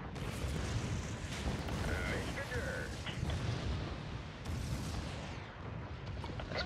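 Bombing raid in the strategy game Spore's civilization stage: a dense, continuous barrage of deep booms and rumbling blasts, loud and overlapping throughout, with a brief lull near the end before the blasts resume.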